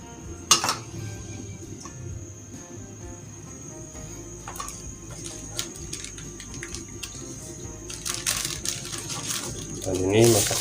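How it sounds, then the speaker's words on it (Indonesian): A ladle clinks and scrapes against a metal pot while meatball soup broth with spices is stirred, sparse metallic taps scattered over a low simmering hum, growing busier and louder toward the end. "Dan bumbunya yang tadi. Kita aduk-aduk dulu."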